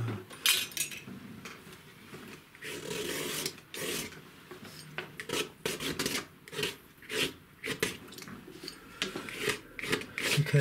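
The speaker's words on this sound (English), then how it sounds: "Scrape that out. Take it down a bit. Let's get a palette knife." A palette knife rasps across a landscape painting, scraping wet paint off the surface in a run of close, uneven strokes with short pauses between them.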